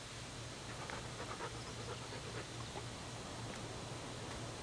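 A dog pants close by in quick, even rhythmic breaths that carry on throughout with no talk.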